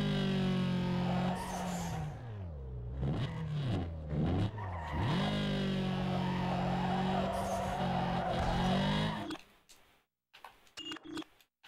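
Engine revving and tires skidding in Need for Speed Underground 2 on PS2, loud and continuous with rising and falling pitch for about nine seconds before cutting out, followed by brief quieter bursts.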